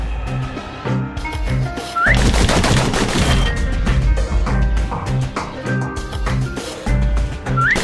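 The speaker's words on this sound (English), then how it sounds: "The slingers like to edge each other out using customized pistols." Rapid bursts of gunfire from customized pistols crack out loudly and close, thick volleys that come in overlapping clusters over a tense musical score with high whistling tones.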